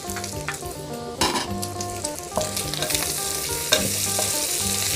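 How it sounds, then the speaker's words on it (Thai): Pork belly stir-fried in a pan with lemongrass, dried chilies and kaffir lime leaves, a steady loud sizzle with the scrape and clink of a spatula stirring against the pan, no talk. "คั่วไปด้วยกันเลยนะคะ"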